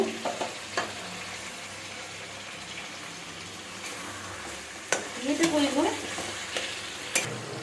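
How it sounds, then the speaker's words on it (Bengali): Chicken sizzles in a pan with sour yogurt while being stirred for pulao, a steady frying hiss broken by scraping strokes and a louder burst of sizzle and stirring near the end. "টক দই দিয়ে আবার কিছুক্ষণ ভালো করে কষিয়ে নেব"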